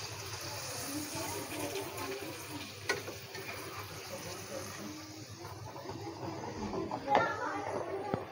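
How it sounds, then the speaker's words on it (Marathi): Rice papad deep frying in hot oil, a steady moderate sizzle and crackle with occasional louder pops, over a constant low background hum. "तांदळाचे पापड असतात ना ते आपण डीप फ्राय करूनच घ्यायचे"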